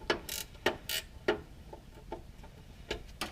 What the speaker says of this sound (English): this is a 14 mil bolt, so I've got a nice good fitting wrench on here